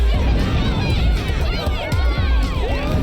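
Crowd of people cheering and shouting in the Danganronpa: Ultra Despair Girls video game, a loud dense babble of excited voices throughout.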